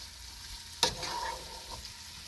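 Vegetables stirred through hot oil in a pot for Trinidadian saltfish, one sharp scrape and clatter followed by a soft, fading sizzle, close and fairly quiet with no talking.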